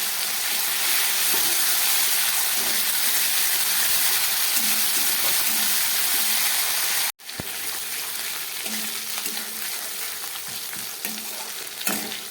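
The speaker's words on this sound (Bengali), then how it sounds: "আদা নুন হলুদ দিয়ে একটু ভেজে নিলাম।" Ginger paste, salt, turmeric and ripe chilli paste fry in a pan for a fish curry, making a loud, continuous close-up sizzle with stirring scrapes. The sizzle cuts out for a moment, then resumes steadily, and no one speaks.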